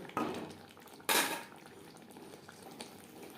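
A utensil scrapes and clanks in a pan while capsicum curry is mixed with garam masala, two sharp metallic knocks standing out over soft stirring, fairly quiet.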